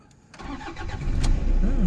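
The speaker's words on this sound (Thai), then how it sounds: "เดี๋ยวลองสตาร์ทฟังเสียงสักหน่อยนะครับ" A used manual-transmission Toyota Vigo pickup truck cranks briefly and its engine catches, rising into a close, steady idle rumble with no talk.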